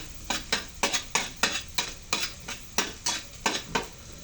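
Garlic is sautéed and stirred in a pan over raised heat while cooking misua with ground pork, a spatula striking the pan in a regular rhythm of roughly a dozen scrapes over a soft sizzle, close and without talking.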